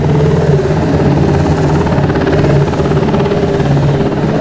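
A UH-60 Black Hawk helicopter in the flight simulator game Flight Simulator X passes by, its steady loud rotor thump and turbine drone filling the scene continuously without voices.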